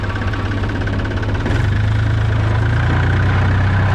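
An ISEKI TA270 27 hp tractor engine runs steadily in high gear, a loud, close, continuous diesel drone with a low rhythmic knock and a slight shift in pitch midway.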